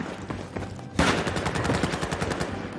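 Light machine gun fire in the Battlefield 4 shooter bursts in rapid, loud, close rattling volleys that start abruptly after a quieter stretch of distant shooting and continue to the end.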